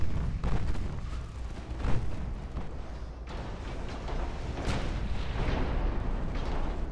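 Warship guns in Ultimate Admiral: Dreadnoughts fire in a steady barrage of deep booming shots and rumbling blasts, loud and close, with the roar continuing throughout.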